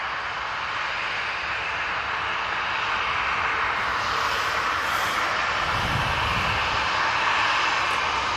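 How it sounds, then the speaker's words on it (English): A Jet2 Boeing 737-800 at Manchester Airport gives a steady, loud, broad engine roar that swells slightly as it passes, with a low rumble building near the end and no speech. "Jet2 737-800 now coming on."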